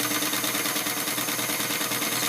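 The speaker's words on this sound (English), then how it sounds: "So we'll just keep sewing." A sewing machine stitches fabric for a Christmas pillow, giving a fast, even mechanical chatter that runs unbroken and fairly quiet throughout.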